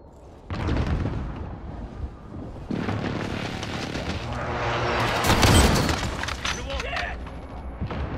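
Precision airstrike in Call of Duty: Modern Warfare, several heavy booming explosions in a row among gunfire and a radio voice, loud and close, with a dense rumble that swells in the middle.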